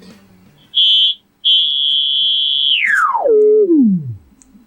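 Sine-wave output from an SSI 2130 VCO: a loud, steady high tone cuts out briefly and resumes, then sweeps smoothly down in pitch with a short level step before fading near silence.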